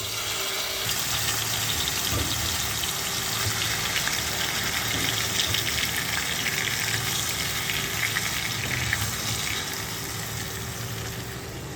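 Marinated chicken frying in olive oil, a dense continuous sizzle and crackle with a low rumble beneath, steady and close throughout with no talk.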